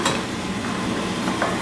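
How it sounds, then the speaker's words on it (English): A short burst of scraping and stirring in a pot over a steady sizzling, close up, with a light clink at the start. "You want to give it a quick little stir here"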